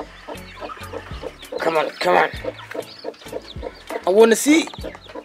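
A big hen clucks near a newly hatched chick, close, repeated low clucks with louder squawking bursts, while a person speaks briefly.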